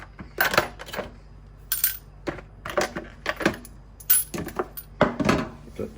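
Brass cartridge cases dropping and clinking into a cleaning sock in loose bursts of metallic jingles, close and fairly quiet, with no talk.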